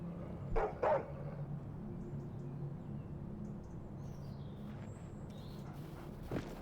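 Dogs in the video game Stay Out give two sharp barks near the start, then a further yip later over a low, steady ambient hum, with faint bird-like chirps.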